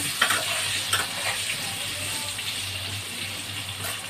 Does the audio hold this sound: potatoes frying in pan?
yes